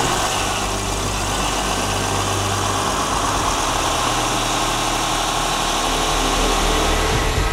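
A 16-cylinder methanol-fuelled high-speed engine rated at 2,000 kilowatts runs at a steady, dense roar with deep low rumble, loud and unbroken throughout.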